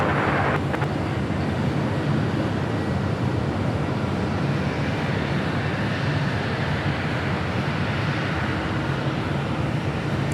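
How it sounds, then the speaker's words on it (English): A United Boeing 777-200 jet departs LAX for Honolulu with a loud, steady engine roar that fills the whole stretch without letting up. "Again, this flight heading to Honolulu, this United 777-200."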